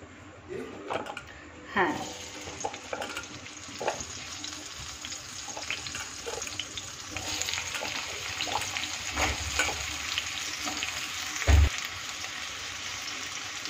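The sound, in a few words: potatoes frying in oil in a wok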